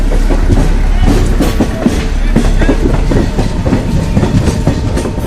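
The Nauchandi Express passenger train, hauled by a WDM 3D locomotive between Moradabad and Meerut, rolls along the rails with a loud, continuous rumble and rhythmic clickety-clack heard from on board.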